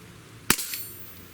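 A single sharp crack from a Beretta 92A1 BB pistol, close and loud, followed by a brief metallic ring and a faint second tick in a quiet space.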